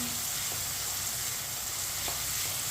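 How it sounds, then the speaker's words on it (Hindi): Onions sizzle steadily in a pan over a medium flame while being browned lightly for tinda sabzi, a continuous close frying hiss with faint stirring clicks. "प्याज को हल्का सा ब्राउन कर लेंगे।"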